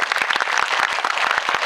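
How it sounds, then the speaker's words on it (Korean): Audience applause at a film talk event for the Korean movie Svaha: The Sixth Finger, dense steady clapping from a theatre crowd filling the whole stretch with no pauses. "여러분 박수 한번 부탁드릴게요."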